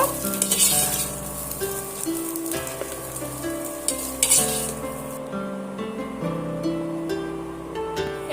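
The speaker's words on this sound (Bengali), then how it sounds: "সয়াবিনগুলো আমার এখানে ভাজা হয়ে গেছে এবার আমি তুলে নেব" Soybean chunks fry in hot oil in a pan with a loud, steady sizzle, close by. Spatula stirs scrape and clatter against the metal now and then, and no one speaks.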